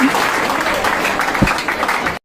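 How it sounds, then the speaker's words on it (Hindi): An audience at a Teacher's Day seminar at a Gurukul coaching institute claps for an honoured teacher, a brief burst of fairly loud, dense clapping that cuts off abruptly. "तो एक बार ताली बजाओ इनके लिए।"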